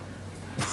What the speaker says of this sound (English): Amy coughs.